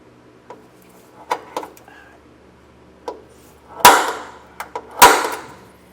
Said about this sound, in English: So I'm going to use my center punch once I get it exactly where I want it.